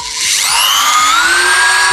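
A 280 W corded screwdriver-drill spins up from rest with a rising whine, then holds a steady high-pitched motor drone, close and loud with no talk.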